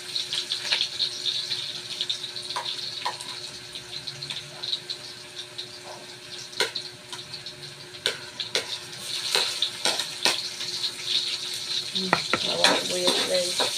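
Garlic and onion fry in a pan for a spaghetti sauce, a constant close sizzle with repeated scraping stirs and occasional metal clinks of utensil on cookware, no voices.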